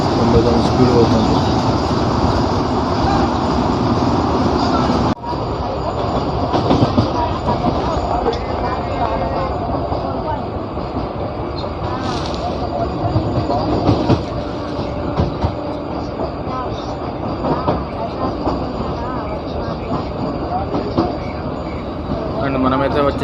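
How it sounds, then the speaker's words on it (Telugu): Inside a push-pull MEMU train running at speed toward Secunderabad, a loud continuous rumble of wheels and carriage fills the whole stretch with a steady rattling drone. "వచ్చేసి మన ట్రైన్ స్పీడ్ 90 స్పీడ్ అవుతుంది."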